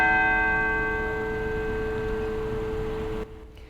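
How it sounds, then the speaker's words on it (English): A church bell at St. John's Episcopal Church in downtown Montgomery tolls for Queen Elizabeth, one ringing stroke with a long sustained hum that slowly fades before cutting off. "The church decided to mark this day with 96 tolls of the bells"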